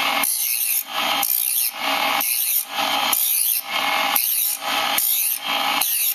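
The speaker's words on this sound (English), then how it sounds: "you don't push real hard on the wheel. You just let it grind lightly and you go back and forth" Scraper blade held lightly against a grinding wheel, a steady rasping grind swept back and forth in regular passes, each pass about a second long with brief dips between, close and loud.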